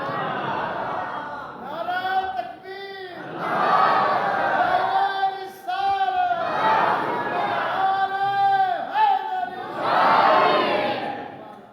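A large crowd at a religious gathering chants slogans in loud, rhythmic unison, repeated call-and-response waves of voices swelling and fading with short pauses between, with a lone voice leading in places.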